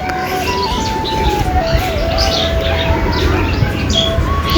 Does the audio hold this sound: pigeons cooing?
yes